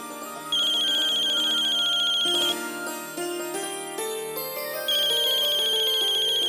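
A phone ringtone plays loudly in a home over a TV-drama music bed, a repeating electronic melody that stops midway, then starts again near the end, with no voices.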